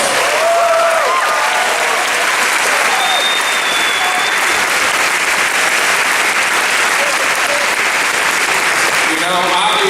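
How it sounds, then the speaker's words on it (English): Audience at a high school ceremony honoring Curly Lambeau, clapping loudly and continuously in a large hall, a dense steady roar of applause with a few faint voices underneath. "Give yourselves a round of applause."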